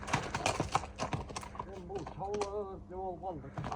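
A horse walks past with a rhythmic run of close hoof clip-clops, while a voice talks over the second half.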